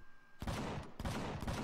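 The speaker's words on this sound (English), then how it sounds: "The loudest one you're hearing is a projectile cannon." Projectile cannon firing on a spaceship in a space game: loud, close bursts of rapid, crackling fire, a sharp onset and then sustained barrages with a short break, with no talk.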